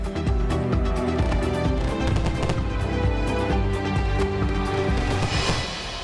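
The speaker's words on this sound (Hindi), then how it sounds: "एक भारतीय यूजर ने लाल किले के सामने वर्चुअल आतिशबाजी की है, बिल्कुल असली जैसी।" Dense, continuous crackling bursts and pops from a virtual fireworks display in front of the Red Fort, loud and steady throughout with no voices, easing slightly at the end.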